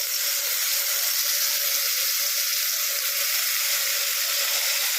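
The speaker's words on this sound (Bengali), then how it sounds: "দেখতে দেখতে পেঁয়াজটা বেশ একটু লাল লাল করে ভেজে নিলাম" Onion paste frying in mustard oil for a Bengali prawn malai curry gives a steady, bright sizzle with no pauses, close and even throughout, with no voices.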